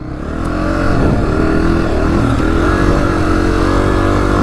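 A Honda CRF250F dirt bike rides through Arizona desert terrain, its engine revving loud and close in a steady, buzzing drone that rises and falls slightly as the rider throttles.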